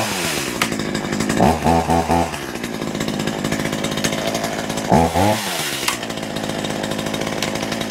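A Poulan Pro chainsaw runs loudly and continuously as its chain brake is tested, with two short bursts of revving and a rising whine standing out over the steady engine drone.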